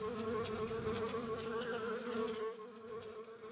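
Bees buzzing in a Paw Patrol video game, a continuous close insect drone that fades slightly toward the end, with no voices.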